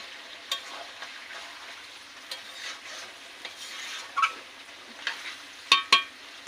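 Shrimp go into a simmering pan of gravy for a Malabar spinach chorchori, with a soft bubbling sizzle under a spoon that stirs and clinks against the pan in scattered, sharper bursts, and no voices.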